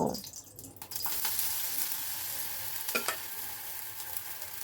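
Semolina batter sizzles steadily in hot oil, a continuous crackling hiss with a couple of brief clinks partway through, close by and fairly quiet.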